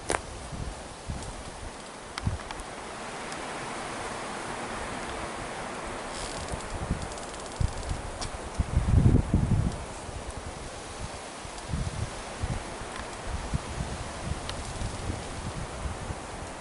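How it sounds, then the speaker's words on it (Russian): Strong wind blows steadily outdoors by the Pechora River, a broad rushing noise with occasional thumps and buffeting gusts against the microphone. "Волны вроде стало меньше, хотя ветер еще сильный."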